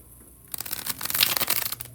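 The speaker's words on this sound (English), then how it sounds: "Let's go ahead and get right on in to the bridge shuffle." A deck of cards riffled in a bridge shuffle during a tarot-style reading, one quick burst of fluttering card clicks after a quiet start, close and fairly loud, with no talk over it.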